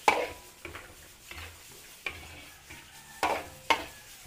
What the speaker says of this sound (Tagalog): Timplahan natin ng konting paminta. Papabango. Haluin lang po natin.